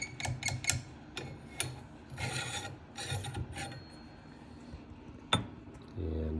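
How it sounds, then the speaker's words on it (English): A rifle bolt handle is worked up and down several times during lug lapping, giving a series of close metallic clicks, scrapes and rasping slides spread across the stretch, with a sharp clack near the end and no talking. "then just work the bolt handle up and down several times"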